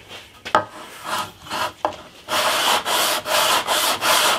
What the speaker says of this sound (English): I can just feel some bumps across there, so I'm going to go in with the 60 grit.